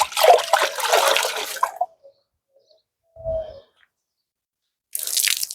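A soapy wash mitt slides over a car's paintwork coated in thick, creamy foam, giving a wet swishing rub for a couple of seconds, then a brief squelch and a final burst of sloshing.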